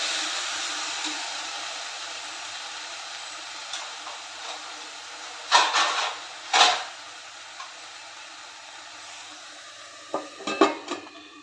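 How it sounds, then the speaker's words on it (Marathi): Chickpea-leaf vegetable cooks in a covered pan over steam, giving a soft, steady sizzling hiss broken by a few sharp metal clanks of the lid or a utensil against the pan. "त्यानंतर झाकण ठेवून वाफेवर ही भाजी आपण शिजवून घेऊयात."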